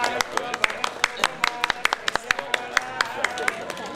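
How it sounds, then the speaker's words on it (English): Wedding guests clap in sparse, uneven applause during a Hindu wedding ceremony, with distinct individual claps standing out over a murmur of voices and chanting. "Give the big applause please."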